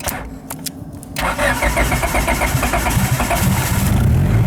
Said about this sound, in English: I'm able to start his car with a screwdriver